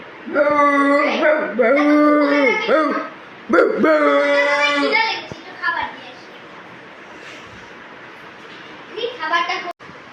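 A voice imitates a dog barking in a rapid run of yapping, woof-like bursts, then pauses and gives a second loud burst of barks, followed by quieter background noise and a brief faint yelp near the end.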